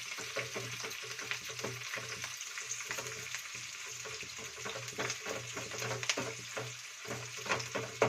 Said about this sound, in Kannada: ಫಸ್ಟ್ ಮೆಣಸಿನ್ಕಾಯಿ ಹಾಕ್ಕೊಂಡು ಚೆನ್ನಾಗಿ ಹುರ್ಕೊಳ್ಳೋಣ